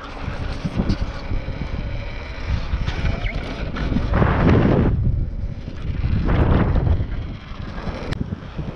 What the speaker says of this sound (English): it's a windy day out here